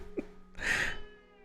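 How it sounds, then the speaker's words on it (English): A male cat gives a single drawn-out meow up close, preceded by a faint short chirp, then trailing off into quiet. "if I pick him up, he'll stop meowing"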